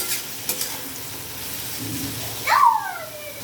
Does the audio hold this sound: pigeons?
no